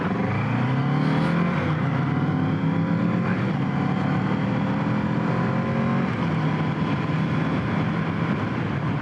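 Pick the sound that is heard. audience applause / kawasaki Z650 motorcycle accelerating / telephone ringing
kawasaki Z650 motorcycle accelerating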